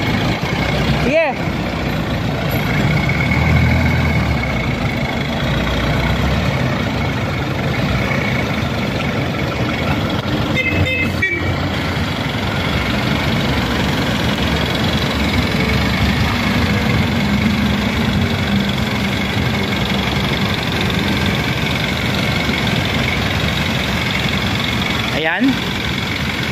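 An owner-type jeep's engine idles steadily and fairly loud at close range, a constant low rumble with a few sharp clicks, while people talk over it.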